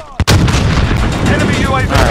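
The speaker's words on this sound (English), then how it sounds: "Grenade out!" In Call of Duty: Modern Warfare multiplayer, a grenade detonates with a sudden loud blast after a short sharp crack, followed by a sustained rumbling roar that fills the rest of the moment; no speech over it.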